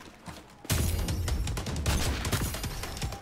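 Rapid gunfire from the online shooter Call of Duty Online bursts in suddenly and keeps up as a loud, dense fusillade of overlapping shots.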